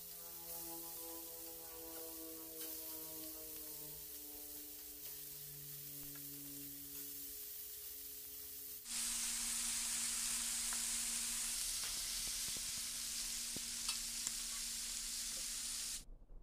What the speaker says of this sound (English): I'm gonna grill this hot and fast